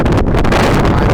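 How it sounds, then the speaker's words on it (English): Strong wind buffets the microphone at a harbor, a loud, steady roar filling the whole moment with no pauses. "the weather is particularly windy, but it's nice"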